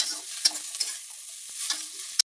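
Carrots, capsicum and other ingredients are stirred and fried in a pan: a continuous sizzle broken by several spatula scrapes and taps, ending on a sharp knock before silence.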